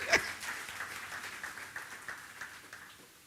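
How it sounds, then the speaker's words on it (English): An audience clapping in a church teaching session, a sharp burst of applause at the start that carries on steadily and fades slowly, with no voices over it. "Let's clap for Jesus."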